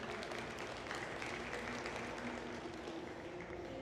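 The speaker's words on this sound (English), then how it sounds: "Let's give a round of applause for Matt." A crowd at a ranch riding clinic clapping for a rider, faint and steady applause heard from a distance and continuing evenly throughout.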